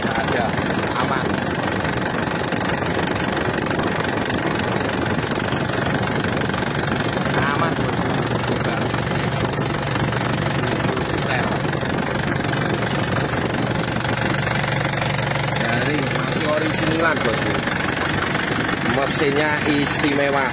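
Isuzu Elf long-body truck with a warm original engine idling up close, a steady loud mechanical drone with knocking texture throughout, a voice talking over it.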